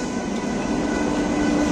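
A train at Chhindwara railway station rumbles steadily and close by for the whole clip, a dense continuous roar of railcars with a faint squealing tone from the wheels and no voices heard.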